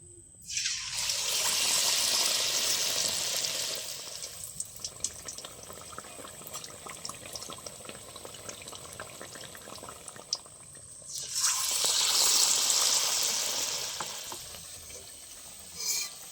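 Potato chops deep-frying in oil: a bright, crackling sizzle that swells loudly at the start and again near the end, with softer bubbling and crackle between, close up and without talking.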